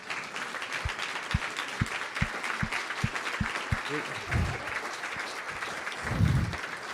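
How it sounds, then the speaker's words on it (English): Light applause from an audience at a 20th anniversary celebration, soft and diffuse, with a few distinct close claps standing out and brief louder swells. "Let's give them a round of applause."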